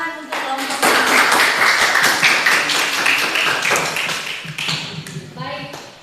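A class claps for a group, a dense burst of applause lasting several seconds and fading out, with voices talking at the start and end.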